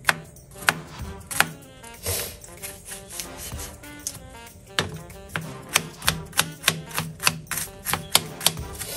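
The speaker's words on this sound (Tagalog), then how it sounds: "Maghiwa ng 300 sibuyas." A knife chopping onions on a board, rapid uneven taps that settle into a quicker steady rhythm near the end, close and fairly quiet, with no talking.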